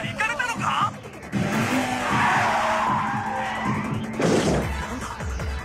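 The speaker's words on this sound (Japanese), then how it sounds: "八六がとんでもねえオーバースピードでヘアピンに突っ込んでく。" An anime Toyota AE86 skids into a mountain hairpin far over safe speed, giving a loud, sustained tire screech under excited shouting, with engine noise and a sharp burst near the end.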